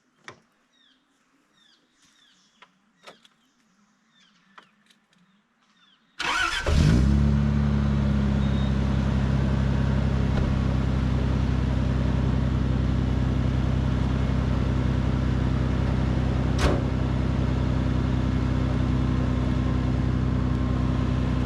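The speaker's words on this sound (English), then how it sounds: "While the car warms up" A 4x4 car on a high-country trip sits quiet for a few seconds with small scattered noises. Then its engine starts abruptly and settles into a loud, steady, close idle while warming up, with no talking.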